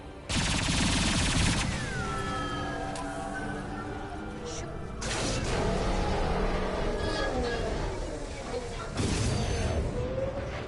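Dense gunfire in the Mass Effect 2 finale as injection tubes are shot, loud sustained bursts of rapid shots with whooshing effects, broken by short pauses.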